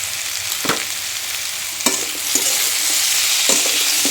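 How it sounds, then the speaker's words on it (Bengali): Spices for a fish curry with red amaranth stems fry in hot oil with a loud, close sizzle. Sharp scrapes and taps of a spatula land at uneven intervals over the steady crackle, with no talking. "এখন ভালো করে একটু নাড়াচাড়া করে একটু ভেজে নেব"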